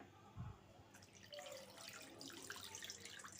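Cold water poured from a tap into a bowl holding katla fish pieces for cooking, a steady close splashing and running stream after a brief thump, with no talking.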